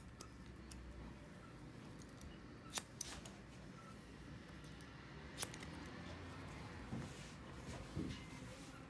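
Scissors cutting hair at a barber shop, a few sharp, faint snips scattered over a soft background hiss, sparse and irregular, with no speech.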